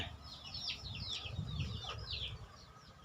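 Chickens cluck and chirp in quick repeated calls over a low rumbling background, fairly close and moderately loud.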